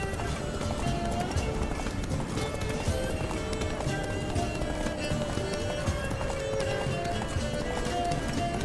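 Rapid rhythmic hoofbeats of a galloping horse in the video game The Witcher 3, under a steady, dense wash of background noise and music, continuous and fairly loud.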